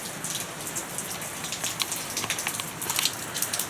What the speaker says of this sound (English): rain's still bloody coming down around here